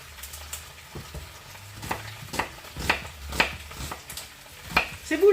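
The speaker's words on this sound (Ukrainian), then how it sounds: "Олійка на сковорідці розігрілась, додаємо туди цибулю." Onions sizzle and crackle in hot oil in a pan, with intermittent stirring scrapes and pops, close by and fairly quiet.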